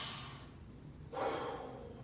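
During a martial arts conditioning workout, a deep breath is drawn in with a soft hiss and then sharply exhaled, close and breathy, with no talk.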